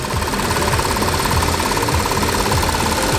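A high-mileage Audi A6 Quattro engine idles steadily under the open hood, a loud, even mechanical hum with a regular ticking rhythm and no talking.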